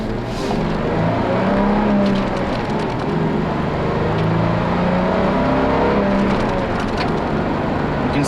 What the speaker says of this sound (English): The V6 engine can get noisy when you push it